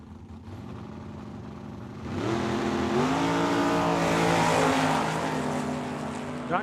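Two drag racing cars, a Mopar on the left lane and a Roadster on the right, run at a dragstrip. A low engine drone builds into a loud, rising roar with harmonic sweeps as they accelerate, holding near and steady to the end.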